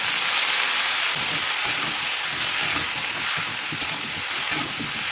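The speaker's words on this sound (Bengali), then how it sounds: "কলাটা হালকা একটু ভেজে নেব" Sliced seeded banana fries in a little oil with turmeric, salt and green chili, a loud, steady close-up sizzle with soft stirring scrapes running through it.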